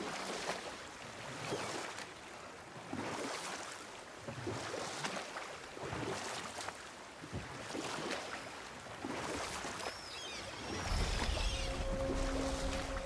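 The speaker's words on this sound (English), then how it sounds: "Keep rowing towards the statues of the oarsmen, then thread past between them." Rowing a boat in the video game God of War: splashing oar strokes repeat every second or so over steady water and wind, with faint chimes near the end.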